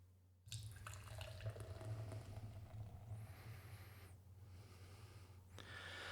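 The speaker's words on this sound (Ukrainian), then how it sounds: "От пиво все наливається з банки" Unfiltered Odesa craft beer from the Nizashcho brewery is poured from a can into a glass, giving a continuous close gurgling, fizzing stream with liquid splashes and a brief foaming hiss partway through, quiet and without talking.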